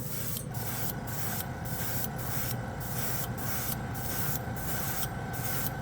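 An airbrush hisses steadily, spraying Gravity Colors chrome paint in a continuous close-up jet that pulses with short regular breaks in its higher sheen, with no talking.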